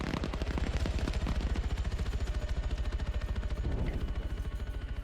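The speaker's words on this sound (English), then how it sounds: "That sound was the sound of the chopper getting hit with 50 cal." Rapid heavy .50 cal gunfire strikes a helicopter in the Arma 3 military shooter, a dense, loud, continuous stream of impacts and shots over a low engine rumble.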